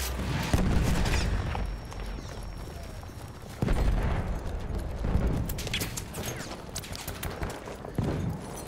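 Battlefield 1 frontlines battle din with a grenade blast amid continuous gunfire, booming impacts and a dense rumbling wash of combat noise, loud and sustained with sharp bursts.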